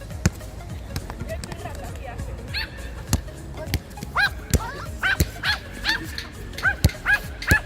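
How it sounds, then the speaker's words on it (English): A Chihuahua yips and barks in short high-pitched bursts, close by on a street outing, mixed with people talking. "Chihuahua."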